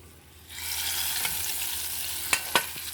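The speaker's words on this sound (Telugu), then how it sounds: "ఇప్పుడు పోపు పప్పులో వేస్తున్నాను." Hot tempering is poured into cooked tomato dal with the stove off, setting off a sudden loud sizzle that holds steady, followed by a few sharp clinks of a spoon stirring the pot.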